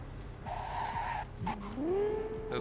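Tires on a sports car, a Bugatti Veyron in Cyberpunk 2077, squeal as it skids through a fast turn, with a rising, gliding screech over a low engine rumble.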